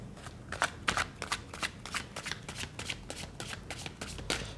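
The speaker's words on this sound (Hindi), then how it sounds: "जब तक मैं कार्ड शफल कर रही हूँ" Tarot cards shuffled by hand, a steady run of crisp riffling bursts repeating for several seconds, close and fairly quiet, no voice over it.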